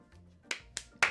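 Three sharp claps from one person applauding themselves, spaced about a quarter second apart, each crisp and close, with the last one loudest.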